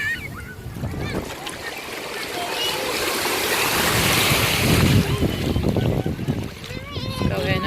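Surf washing onto a sunny beach in Tenerife, a steady rushing wash with gusts of wind buffeting the microphone, swelling louder midway, while people chat nearby over the water.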